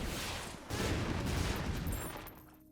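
Bombs detonating in The Binding of Isaac, a dense burst of explosive rumble that swells at once and rolls on for a couple of seconds before fading, with no voices over it.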